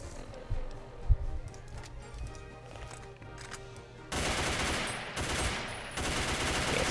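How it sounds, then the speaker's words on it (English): A Russian-style machine gun from a Fallout: New Vegas mod fires in bursts, first quieter scattered shots, then a dense, louder sustained rattle in the second half. "Show the machine gun. Kind of like the LMG, but a little different."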